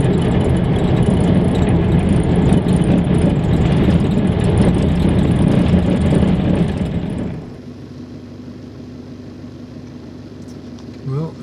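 A Toyota Hilux engine drones loudly and steadily while four-wheel driving on a sandy outback track, then drops abruptly to a quieter low rumble for the last few seconds.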